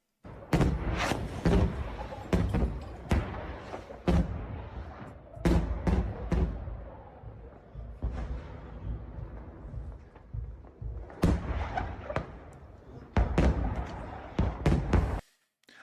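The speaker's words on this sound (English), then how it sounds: "we got to see the Russians firing incendiary rounds into the city again" Incendiary rounds fired into a city in war footage make repeated sharp booming impacts and thuds, some in quick clusters and others spaced apart, with rumbling decay between them and a stretch of quieter distant rumble midway.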